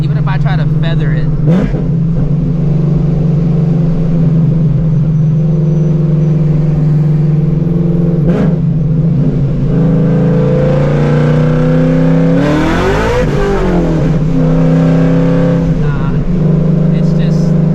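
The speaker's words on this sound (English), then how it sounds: "it's just blowing the tires off" A 900-horsepower Shelby GT350 with a built transmission holds a loud, sustained engine roar at close range as the tires spin, with revs rising and falling, a sharp surge near the middle and people talking over the noise.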